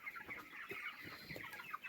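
Soft, overlapping clucks come from a flock of 21-day-old broiler chickens weighing about 1.25 kg in a poultry farm shed in Deoli, a busy, continuous murmur of birds close by.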